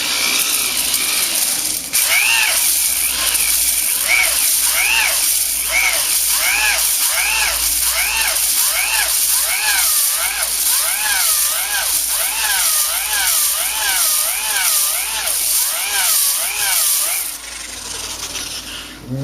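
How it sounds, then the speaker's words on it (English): Electric drill spinning a cylinder hone to deglaze the bores of an LQ4 6.0 engine block, a steady loud whine with rhythmic scraping strokes as the hone travels up and down, running continuously before cutting off near the end. "my drill absolutely hates this. It is smoking hot, and I've been doing breaks in between"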